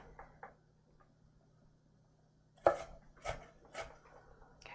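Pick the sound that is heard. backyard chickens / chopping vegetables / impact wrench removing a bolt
chopping vegetables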